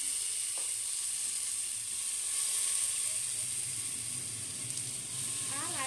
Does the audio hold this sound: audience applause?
no